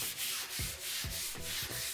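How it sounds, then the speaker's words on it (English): Hand sanding across a wooden dining table top, with rhythmic back-and-forth rasping strokes, about five passes in two seconds, close and fairly quiet with no voices. "I feel like the sanding here never ends."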